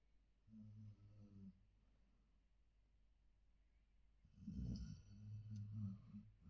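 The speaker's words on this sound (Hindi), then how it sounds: "बहुत तेज खर्राटे ले रही है।" A German Shepherd dog snores at night in two long, rumbling breaths separated by a quiet pause. The second snore is louder and snortier, close and otherwise alone.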